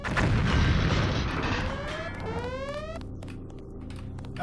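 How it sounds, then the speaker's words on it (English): A video-game explosion in Deus Ex: Mankind Divided, a loud boom with a rumbling burst that decays over a few seconds, followed by falling ringing tones and debris. "it's a simple explosion, but it still makes me happy."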